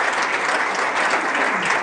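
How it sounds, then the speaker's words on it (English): Loud, full audience applause, a dense continuous wash of clapping close by with no voices on top. "Can we give Charlie a great big round of applause?"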